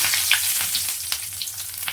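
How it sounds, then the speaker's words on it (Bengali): Bay leaf dropped into hot oil for tempering crackles and sizzles steadily, with small pops and spits scattered through a continuous bright frying hiss, close and fairly loud. "এই তেলে আমি ফোড়ন দেব তেজপাতা"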